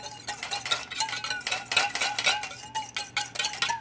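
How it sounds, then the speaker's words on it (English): A whisk beats a lime dressing into salad in a bowl, rapid rhythmic metallic clinking and swishing strokes that stay close and fairly loud throughout, with no voices. "take your whisk and just make sure it's mixed together really well"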